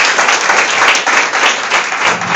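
A church congregation claps in sustained, dense applause that stays loud and even throughout, with no voice standing out.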